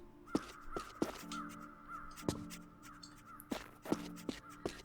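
Birds in the Tomb Raider custom level Icy Paradise caw repeatedly, several harsh calls in an irregular rhythm over a steady background tone and scattered sharp knocks.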